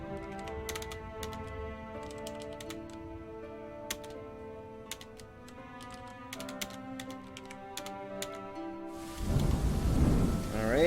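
Dwarf Fortress plays tonal game music with scattered keyboard clicks, then a loud rumbling burst of thunder and rain noise near the end.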